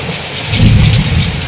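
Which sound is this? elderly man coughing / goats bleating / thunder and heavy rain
thunder and heavy rain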